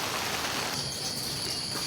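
Steady rain falls over a farm field of corn and long beans, a dense continuous hiss of drops at even loudness throughout with no voices.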